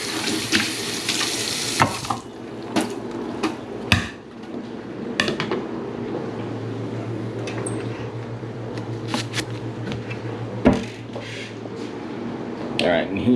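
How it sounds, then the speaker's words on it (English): Tap water runs into a sink while a 2009 high school graduation class mug is rinsed under it, a steady nearby splashing stream broken by sharp knocks and clinks of the mug. "Give that a little rinse."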